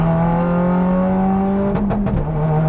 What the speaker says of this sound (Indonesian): kita coba flat foot shifting